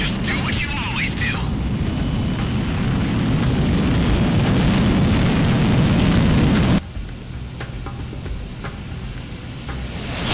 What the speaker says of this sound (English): Garuda 1, you are cleared for takeoff